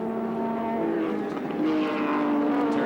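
Race cars at the 1983 Castrol 400 at Sandown, engines droning and whining as they pass, one tone giving way to another, fairly loud and steady with a commentator faintly behind.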